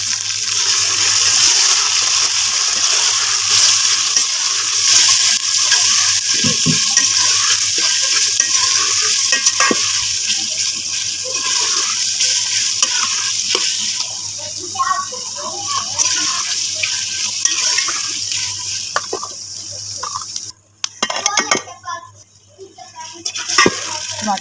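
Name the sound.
chicken frying with garlic paste for haleem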